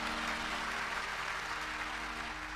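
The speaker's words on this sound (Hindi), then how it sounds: "और जोर से बजाइए ताली।" Audience applause at a devotional Sundarkand recitation, steady dense clapping from a large crowd filling the whole stretch without a break.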